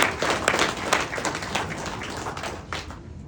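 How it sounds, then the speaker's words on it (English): A school signing-day audience claps in a short burst of applause that starts loud and tapers off over a few seconds. "Let's give them a round of applause."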